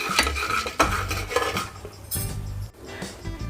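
Popcorn kernels are stirred with salt in a pot: a close metal spoon scrapes and clinks against the pan in quick, irregular strokes over a faint sizzle.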